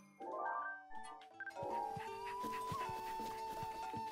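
A dog in the video game Breath of the Wild whimpers and yips in a few high, wavering cries, followed by a sustained game tone and rhythmic in-game sounds, with no talking.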